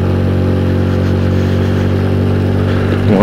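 A motorcycle engine labors up a steep, narrow mountain road, holding a loud steady mid-pitched drone close by before revving higher at the very end.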